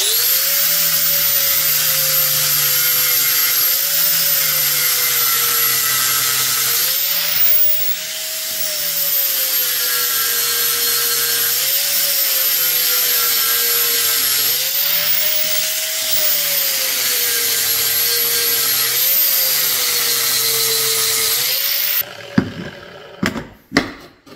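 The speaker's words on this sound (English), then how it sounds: "Get you a little flap wheel action going here." A flap wheel on a power tool grinds against the body of an old, weathered Ford F250 truck. It makes a loud, steady whine that dips and rises with pressure in regular cycles, then stops with a few clanks at the end.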